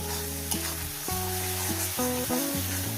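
Spinach and fish curry being stir-fried steadily in a pan, a continuous sizzling hiss with stirring, heard under loud melodic background music throughout.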